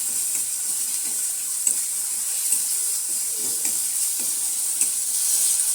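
Spice paste of chilli powder and ginger-garlic paste frying and being stirred in a pan for an aloo potol curry, a soft continuous sizzle with scattered light scraping and clinks of the spoon throughout.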